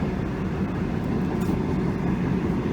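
A V/Line H car set train rolls along a single-line track toward Bacchus Marsh while slowing, giving a steady, loud low rumble of wheels and carriage noise heard from on board, with no voices.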